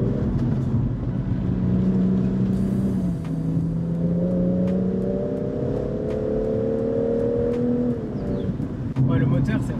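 BMW M240i Cabriolet turbo engine accelerating, a moderately loud rising drone that climbs through several gears with short dips between them, heard from inside the car.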